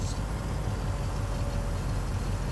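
Steady low rumble of a tractor engine running in the video game Farming Simulator 19, loud and close, continuous with no talking.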